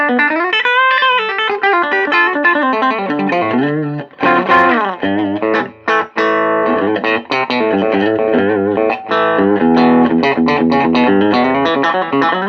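Clean, dry electric guitar, a Telecaster, playing chords and melodic lines straight into an amp, steady and close with no reverb, with a few brief pauses.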